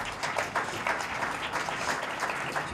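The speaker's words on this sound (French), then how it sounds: "je crois qu'on peut l'applaudir quand même" An audience applauds Philippe Saurel, president of Montpellier Méditerranée Métropole, at a breakfast talk event: dense, steady clapping from many hands fills the room evenly throughout, with no voices over it.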